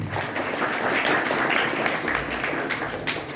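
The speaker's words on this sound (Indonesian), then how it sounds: "Tepuk tangan kita semua." An audience at an Islamic school boarding program for students claps together, a dense, steady wash of applause throughout with some voices faintly mixed in.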